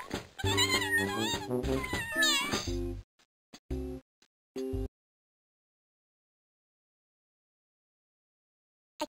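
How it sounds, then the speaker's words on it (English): Kittens meow in the farm video game Maggie's Farmyard Adventure: a loud run of high, wavering meows over the first three seconds, then a few short cries, then silence. "And look, my cat had kittens."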